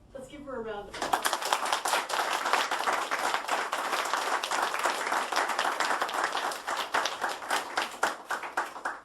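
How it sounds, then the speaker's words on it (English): Audience at a board meeting breaks into sustained applause, dense clapping from a roomful of people lasting several seconds at steady strength before thinning out toward the end, with a brief voice heard just before it begins. "Let's give her a round of applause."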